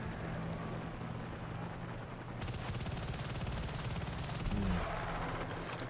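Rapid automatic fire from a PPSh submachine gun in Bad Company 2 Vietnam, a conquest match on Phu Bai, bursts out midway as a loud sustained rattle over wind-like background noise.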